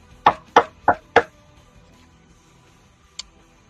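Four quick knocks land on a large enchanted door with a domed forehead, struck in an even rhythm and ringing briefly in a small room, then one faint tap follows after a pause.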